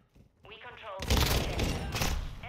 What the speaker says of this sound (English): His teammate started shooting me, so I shot him.